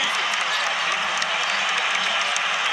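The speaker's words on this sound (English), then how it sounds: "Crowd getting on its feet." Basketball arena crowd at an NBA game between the Milwaukee Bucks and New York Knicks roaring and applauding as fans rise late in the fourth quarter, a dense continuous wall of cheering and clapping.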